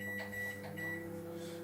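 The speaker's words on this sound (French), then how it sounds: "Donc là on le met au micro-ondes." Microwave oven humming steadily while heating chocolate for a homemade chocolate mousse, a constant low drone with faint higher tones, close and alone.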